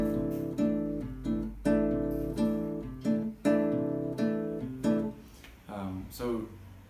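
An acoustic guitar strums a bossa nova rhythm with anticipated chord hits, sounding as repeated syncopated plucked chords, close and clear, with no talking.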